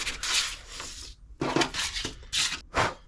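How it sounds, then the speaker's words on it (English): Small scrap wood pieces rubbed by hand across sandpaper make several short, close rasping strokes in quick bursts with brief gaps between them. "Grab them all on your sandpaper."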